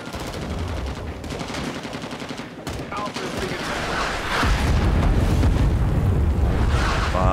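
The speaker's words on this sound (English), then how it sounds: "It's a grenade!" Chaotic battle sounds in Rising Storm 2: Vietnam: bursts of gunfire and rattling automatic fire crowd the first half, then a heavy, rumbling grenade blast swells and sustains loudly to the end, with no clear voices heard.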